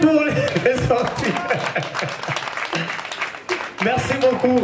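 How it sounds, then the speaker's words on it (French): A crowd at an outdoor festival in Lemba, Kinshasa, applauds loudly, the clapping mixed with music and cheering voices throughout. "On applaudit pour les sorties."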